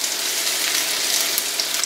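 Egg-and-cheese toast fries in a pan with a steady, close, bright sizzle and crackle that holds evenly throughout, with no talking.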